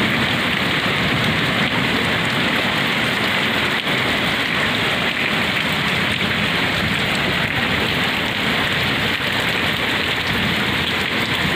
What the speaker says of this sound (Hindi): कुल मिला के बढ़िया बारिश होने लग रही